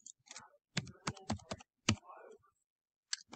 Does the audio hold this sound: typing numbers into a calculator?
yes